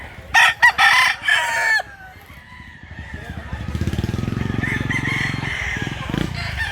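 A rooster crows loudly near the start, then a dense flock of chickens clucks and murmurs steadily, with some voices in the background.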